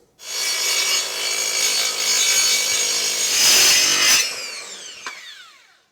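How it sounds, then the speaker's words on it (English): A saw cutting the raw edge of a roller door panel in a garage workshop, a loud continuous rasping grind that rises briefly, then cuts off and leaves a ringing metallic decay. "As Ian cuts all the raw edges"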